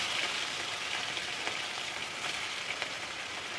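Pieces of katla fish frying in hot white oil: a steady, close hiss and crackle of sizzling with small popping spits, continuous and even, with no talk.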